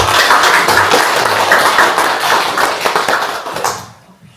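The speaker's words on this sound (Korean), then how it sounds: "하나님께 감사의 박수를 드립니다." A church congregation claps together at a Sunday service, loud and close, a dense rhythmic patter that fades out at the end.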